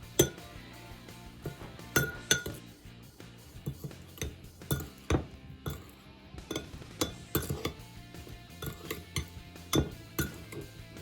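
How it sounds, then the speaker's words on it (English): Raspberries with sugar and cornstarch being stirred in a dish: a spoon clinks and scrapes against glass in irregular, close taps throughout, with no talking. "And we will stir that all together."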